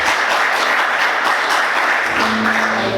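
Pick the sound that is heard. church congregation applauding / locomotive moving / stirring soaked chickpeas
church congregation applauding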